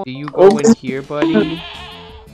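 A goat in the video game Minecraft bleats with a wavering, drawn-out cry that trails off, heard right after someone speaks over the start.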